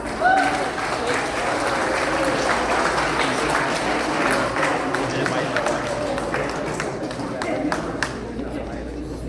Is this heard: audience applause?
yes